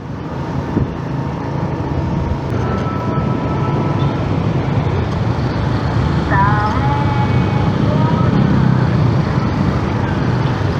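Jammed afternoon road traffic near Tebet, a dense, continuous low rumble of idling and creeping cars and motorbikes up close, with a brief horn-like tone rising out of the steady drone.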